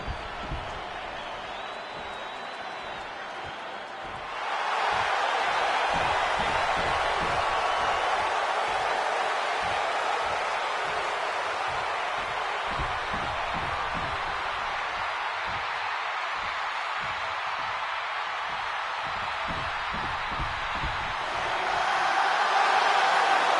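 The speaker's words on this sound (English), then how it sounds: "And this capacity crowd just exploded." Capacity arena crowd roaring in WWE 2K26 during a Seth Rollins versus CM Punk entrance, a loud sustained wash of cheering with rhythmic thumps underneath that swells again near the end.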